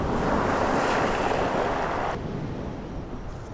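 Octopus boiling vigorously in a pot of water with onion and chillies, a steady dense bubbling roar close up that drops slightly in intensity partway through.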